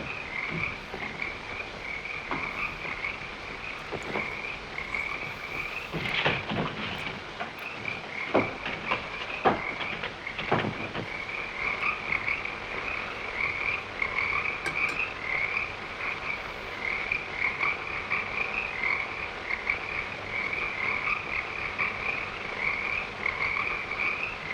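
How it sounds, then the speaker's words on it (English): Frogs croaking steadily in a 1932 black-and-white horror film, a dense, continuous chorus of rhythmic croaks with a few louder clicks and knocks over it, no talking. "I love that the frogs just keep going."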